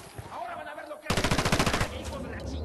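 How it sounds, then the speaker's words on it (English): A rapid burst of automatic gunfire from the video game Ghost Recon: Wildlands, roughly a dozen loud close shots in quick rhythm lasting under a second, following a quieter stretch of ambient game sound. "Taking a shot."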